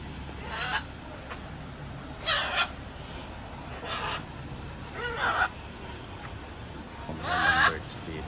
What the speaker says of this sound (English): Ang mga birds dito.